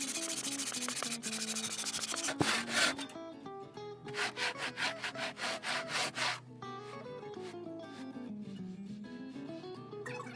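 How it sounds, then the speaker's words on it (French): A hand saw cuts through a soft, water-resistant shower ceiling panel, giving rapid rhythmic rasping strokes that come close and clear in a steady run of back-and-forth passes, with no talk. "Pour la découpe, on utilise cette scie manuelle."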